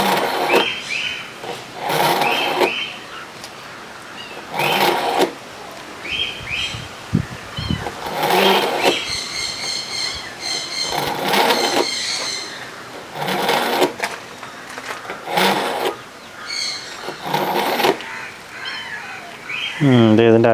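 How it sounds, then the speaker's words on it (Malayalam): An old kitchen knife is drawn repeatedly through a 3-stage sharpening tool, making close, rasping scrapes in regular bursts about every couple of seconds, separated by brief quieter gaps. "അപ്പോൾ നമുക്കിനി അതിനൊന്ന് മൂർച്ച കൂട്ടി വെക്കാം"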